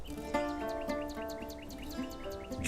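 A bulbul sings in repeated bright, chirping notes at a steady rhythm, heard faintly over a sustained musical drone in the background.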